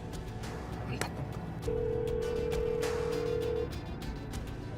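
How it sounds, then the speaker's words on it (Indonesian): Mobile phone ringing indoors, a single sustained electronic tone lasting about two seconds, moderately loud over background room sound. "Ngapain sih telepon lagi?"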